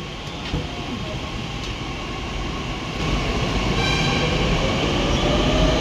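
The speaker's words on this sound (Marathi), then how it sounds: "आमची ट्रेन आलेली आहे आणि इट्स गॉन" A metro train at a station: a steady rail rumble and rolling hum that swells noticeably partway through as the train moves, with a faint whine on top.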